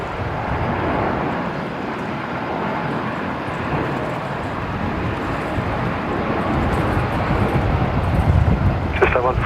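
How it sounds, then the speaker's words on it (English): Jetstar Airbus A321neo airliner touching down on runway 19 left at Brisbane Airport, a steady broad roar of engine and wind noise from a distance, with a voice talking over it. "one of the Jetstar 321 Neos just touching down there"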